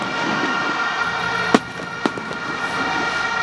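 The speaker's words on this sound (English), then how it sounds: "the fireworks have gone off and the trophy is aloft" Fireworks at the trophy presentation of a Manning Cup schoolboy football final, two sharp distant bangs over a loud steady crowd roar with a continuous siren-like whine.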